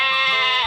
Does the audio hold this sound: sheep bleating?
yes